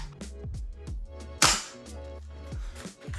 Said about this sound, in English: we're gonna shoot an empty magazine just to see